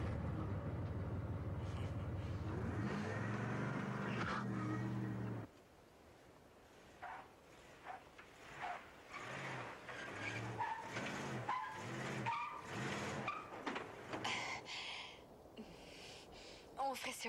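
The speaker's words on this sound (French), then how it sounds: "C'est une voiture de course." A race car in a street setting roars with a sustained engine drone for several seconds, then cuts to a busier stretch of skids, engine bursts and short impacts, with voices in the background.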